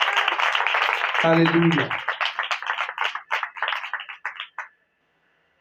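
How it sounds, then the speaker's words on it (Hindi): Steady church congregation applause and clapping for several seconds, with a voice calling out near the start, then fading into quieter rhythmic claps before stopping. "जोरदार तालियां बजाएं यीशु के जलाल के लिए।"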